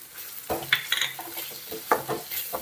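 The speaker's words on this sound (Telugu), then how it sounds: "అల్లం పేస్ట్ వేసుకుందాం దీనికి బాగా వేయించుకోవాలి కారపొడి వేసుకుందాం" Ginger paste and chilli powder fry in a pan for an egg masala curry, giving a soft sizzle under a few close scrapes and clinks of a spoon stirring against the metal.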